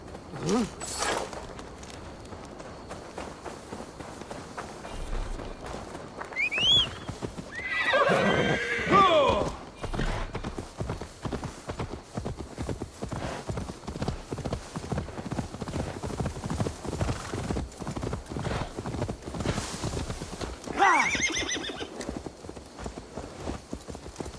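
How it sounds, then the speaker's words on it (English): Hooves clip-clop steadily as a horse moves along, with a loud whinny partway through and another neigh later, all in the Assassin's Creed Valhalla game soundscape. "Now to deliver Magni his horse"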